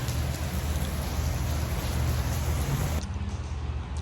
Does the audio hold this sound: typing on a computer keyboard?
no